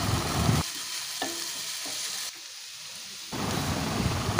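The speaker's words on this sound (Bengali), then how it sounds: "আলুটা এখন বেশ ভাজা অনেকটা হয়ে এসছে, তবে আরও কিছুক্ষণ এটা ভাজতে হবে।" Steady sizzling of potatoes frying in a pan, with brief quieter stretches where the hiss drops back before rising again.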